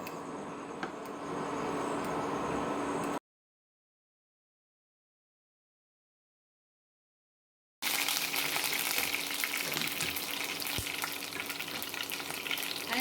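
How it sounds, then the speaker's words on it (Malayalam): Mustard seeds crackle and splutter in hot coconut oil in a pan, a steady loud sizzle, broken by a silent gap of several seconds before the frying resumes. "എണ്ണ ചൂടായതിനു ശേഷം കടുവിട്ട് പൊട്ടിക്കുക"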